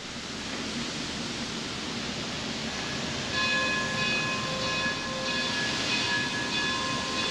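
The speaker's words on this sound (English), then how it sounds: "I hear a train." A train rumbles past outdoors along the Million Dollar Highway in Colorado, a steady broad roar with a faint sustained horn-like tone joining midway, growing slightly louder, no talking.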